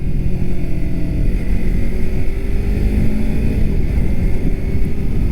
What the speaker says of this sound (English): I don't think my R3 exhaust is considered a loud exhaust.